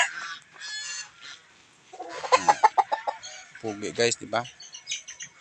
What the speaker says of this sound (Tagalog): Ang ingay-ingay nila guys. Sobrang ingay. Ito na yung mga manok ko guys